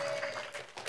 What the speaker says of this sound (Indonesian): Tepuk tangan bagi anak kita.